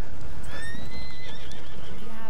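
A horse whinnies in a high, wavering call in Battlefield 1, with soft hoof clops and a bit of talk in the background.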